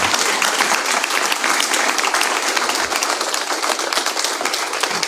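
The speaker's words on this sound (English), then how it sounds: "Let's give all of the candidates a round of applause." Loud, dense applause from the audience at a Fremont mayoral candidate forum, honoring all the candidates, with continuous close clapping holding steady for several seconds.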